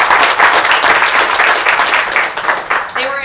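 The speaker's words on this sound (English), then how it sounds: "Can I get them a big round of applause?" Applause from an audience at a school board meeting, honoring trip chaperones: a dense, loud burst of steady clapping for about three seconds that tapers off at the end.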